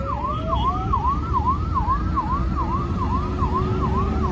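An ambulance siren on a busy highway wails loud and close in a steady rising-and-falling yelp, repeating evenly over a low rumble of traffic.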